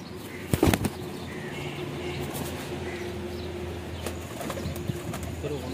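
Breeder pigeons in a loft: a sudden loud burst of wing flapping near the start, then soft cooing and scattered light flutters over a steady background hum.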